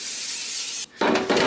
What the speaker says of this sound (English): Spray oil.